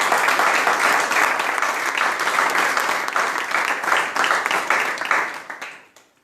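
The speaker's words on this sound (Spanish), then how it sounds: "Den un aplauso al Señor." A church congregation applauds during a faith service, dense steady clapping filling the room before thinning out and fading away at the end.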